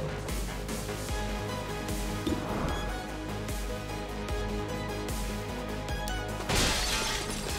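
Glass shattering in the video game XCOM 2: a crash rises out of a dense, loud bed of game music and effects, with another bright burst near the end and no talking.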